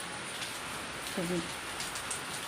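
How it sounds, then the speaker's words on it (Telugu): Rain falls steadily outside during wind and rain, a soft, even hiss of drops that stays faint and constant the whole time, with a brief low murmur near the middle. "బయట అయితే గాలి వాన అంతా పడతా ఉంది"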